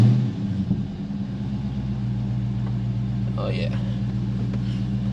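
Dodge Charger Scat Pack engine rumbling steadily at a low, even idle-like drone, loud and close from inside the car at the Nürburgring Nordschleife, with a brief spoken exclamation near the start.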